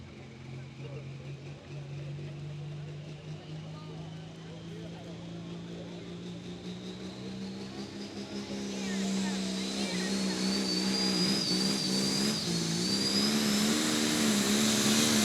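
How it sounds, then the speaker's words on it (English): Case International pulling tractor named Never Satisfied at a tractor pull, its engine roaring steadily and climbing in pitch and loudness through the run, with an announcer's voice over it. "driving the Case International tractor called Never Satisfied"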